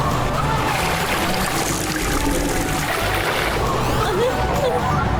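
Water gushes steadily to rinse away mud in an animated scene, a continuous broad rushing that holds at an even level for the whole stretch without pause.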